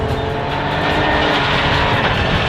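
A rally car at speed on a rally stage, its engine roaring hard and close, a continuous loud drone with slight pitch swells across the short burst.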